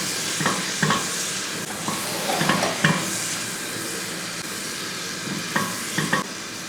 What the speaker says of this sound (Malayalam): ഇനി അതുകൂടെ കൂട്ടി എല്ലാം കൂടെ നല്ലപോലെ ഒന്ന് വഴറ്റിയെടുക്കും